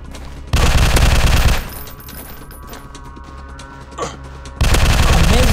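Rapid bursts of gunfire from the Fire Strike video game, loud and close, with a sustained volley at the start, a quieter stretch with scattered shots, then another heavy burst at the end.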